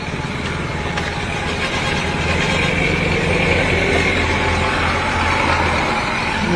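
A motorcycle engine idles steadily nearby, a constant low rumbling drone with traffic-like background noise and no clear speech.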